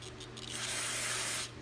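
A steady hiss of spraying water rinsing a carburetor float on a Troy-Bilt machine, building quickly and holding for about a second before cutting off, close by with a low hum underneath.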